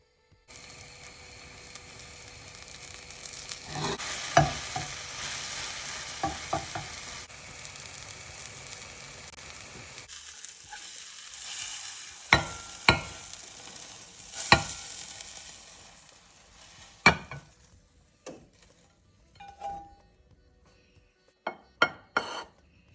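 Bombay masala omelette mixture frying in a hot pan, a steady sizzle with stirring and scraping. Sharp utensil clicks and taps grow sparser as the frying quiets toward the end.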